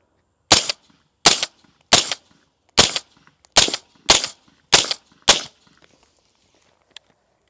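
Eight evenly spaced, sharp gunshots from a suppressed 10.5-inch ADM AR-15 rifle crack out at about two-thirds-second intervals, loud and close, followed by a faint distant pop and quiet.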